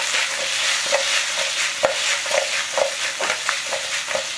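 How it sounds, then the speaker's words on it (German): Potatoes for a German Bauernfrühstück fry in a pan with a dense, constant sizzle, while roughly ten spatula scrapes and turns land at a quick, irregular rhythm, close up and with no one speaking. "so 5 Minuten ungefähr muss es jetzt schon mal so vor sich hin braten"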